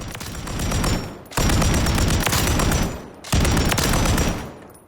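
PKP Pecheneg machine gun in Call of Duty: Modern Warfare III fires three sustained bursts, loud and close, with booming reports and brief gaps between bursts, tailing off at the end.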